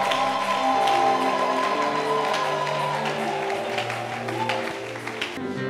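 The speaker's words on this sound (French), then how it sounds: "On l'acclame très fort de Jésus que nous servons." A church congregation at a prayer seminar applauding loudly in praise, with a dense patter of clapping over sustained musical tones, loudest at first and easing toward the end.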